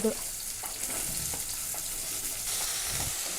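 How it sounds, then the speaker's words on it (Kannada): Onions fry in oil in a pan for a hotel-style chicken and egg curry, a steady close sizzle and hiss with faint stirring scrapes underneath, no talking. "ಇದು ನೋಡಿ, ಈರುಳ್ಳಿ ಚೆನ್ನಾಗಿ ಫ್ರೈ ಆಗಬೇಕು"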